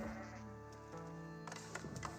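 Sheep bleat in the Age of Empires 4 strategy game, with harmonic in-game cries standing out from a steady soundtrack and ambient game noise over about two seconds, with no talk.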